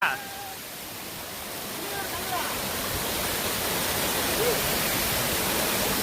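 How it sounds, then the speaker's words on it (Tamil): A waterfall roars in a steady, dense wash of rushing water, close and continuous, with a brief voice at the very start. "ஃபால்ஸ் வந்தாச்சு"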